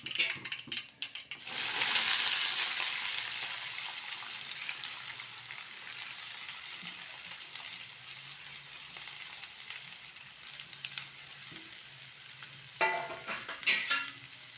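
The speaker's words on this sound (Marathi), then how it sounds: "आपले जिरे फुलले की आपण त्यात आपला हा कांदा टाकू कट कट केलेला कांदा टाकू" Chopped onion dropped into hot oil with bloomed cumin seeds for a dry onion vegetable dish: a loud hiss bursts up, then settles into steady close sizzling with a few scraping stirs near the end.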